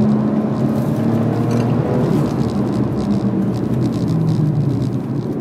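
A BMW 1M accelerating uphill on a race track gives a steady, loud engine drone with low rumbling harmonics, heard from inside the car and continuous throughout, with no voices.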